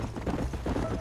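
Horse hooves clop in Red Dead Redemption, a quick run of soft, close hoofbeats with faint mechanical rattling, lasting only a moment.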